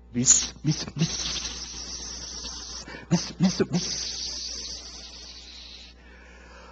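A voice imitates a cicada's buzz in Korean speech, rasping in a few short bursts and then a longer sustained drone that fades out.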